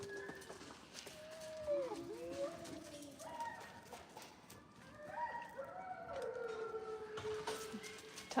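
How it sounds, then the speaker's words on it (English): Rescue animals howling together in long rising and falling wavering tones, several voices overlapping at moderate distance, with light background noise. "Now they're gonna start to howl because they felt the energy of that coming out."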